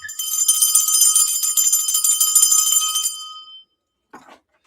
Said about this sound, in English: Wait a minute, where the bell at?